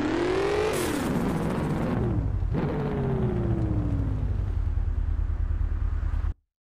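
A car engine in the Car Parking mobile game revs up and down in rising and falling sweeps, loud and steady throughout, with no talking, before cutting off abruptly at the end.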